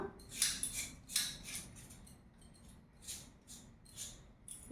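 Radishes being peeled by hand with a kitchen peeler or knife, a series of faint, short scraping strokes in an irregular rhythm, close by in a quiet kitchen with no talking.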